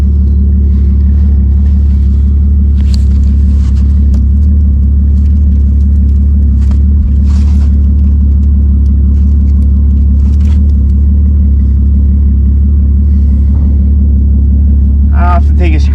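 An old car's engine idles steadily with a deep, loud, constant rumble and a faint ticking from the rocker area, occasional small clicks and handling noises over it.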